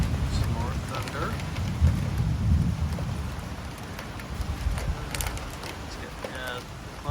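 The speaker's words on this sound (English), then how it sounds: "Some more thunder." Low thunder rumbling beneath steady rain and gusting wind during a storm over Thunder Bay, Ontario, a deep swelling roll around the middle and a constant hiss, with a person talking over it.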